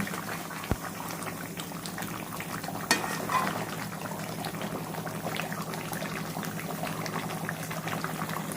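Mutton gravy simmering on a gas stove, bubbling steadily and softly at a close range, with a couple of brief knocks against the pot partway through; no one speaks.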